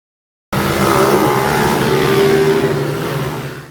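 Loud motor vehicle engine noise on a street, steady and roaring after a brief silence, fitting noisy motorcycles being ridden and revved in traffic, with no talk over it.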